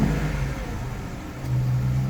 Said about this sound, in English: Yes. Car is start.